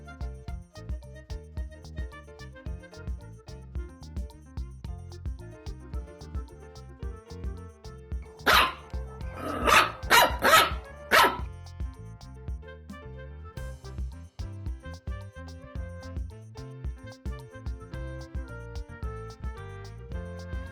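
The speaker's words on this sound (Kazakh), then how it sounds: "Ит." A dog barks in a quick cluster of four or five sharp barks midway through, standing out over soft, continuous background music.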